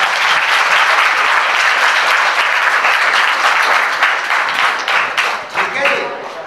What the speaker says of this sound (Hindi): बच्ची के लिए ताली